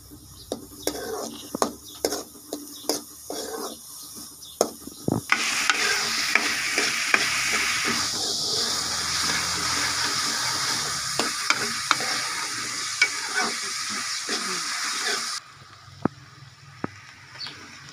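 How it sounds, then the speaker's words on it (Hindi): Finely chopped onions fry in ghee with a steady sizzle while a spoon stirs and scrapes the pan in a clattering rhythm. The sizzle stops near the end, and soft speech is heard in the background. "घी के अंदर प्याज डाला है, चॉपर्ड प्याज है बारीक किया हुआ।"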